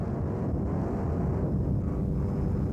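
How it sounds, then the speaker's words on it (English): A Class 1 racing powerboat's huge Mercruiser engines drone steadily at sea in rough conditions, a dense, loud low rumble blended with wind noise, unbroken throughout. "The growl of the huge mercruisers as the throttle man watches very carefully on the crossing sea that's in front of him"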